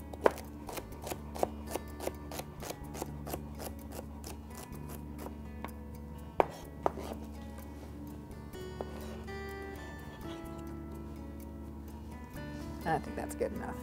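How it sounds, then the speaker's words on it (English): Knife chopping ingredients on a cutting board for a bow tie seafood salad, a quick run of sharp, evenly spaced taps that slows into scattered cuts, fairly close and moderately loud. "I'm gonna chop that up."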